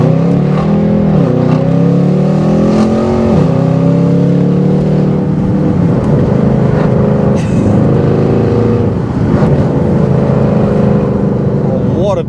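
A deep, loud V8 engine of a Mercedes C63 AMG saloon with straight-pipe exhaust rumbles and revs continuously, throaty exhaust rising and falling in pitch throughout.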